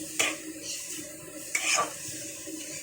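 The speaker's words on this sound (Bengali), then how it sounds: "কড়াই থেকে শাকটাকে নামিয়ে নেব।" A spoon scraping cooked radish greens out of a wok, giving two or three gritty scrapes and brushing strokes of metal on metal, close and clear with a faint background hiss.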